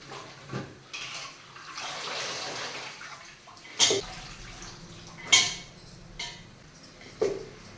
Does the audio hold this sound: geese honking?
no